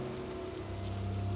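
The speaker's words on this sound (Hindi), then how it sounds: "तेज़ बारिश हो रही थी" Heavy rain falls in a steady, dense wash of noise with no breaks and no voices.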